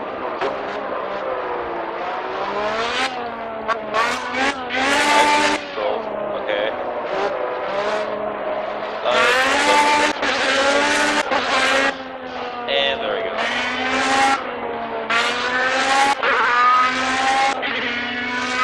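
A race car in the video game Project CARS spins on cold tires, its engine revving and wailing up and down in loud, continuous bursts for the whole stretch.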